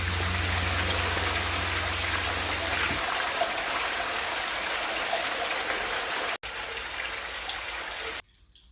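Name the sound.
water draining out of an old water tank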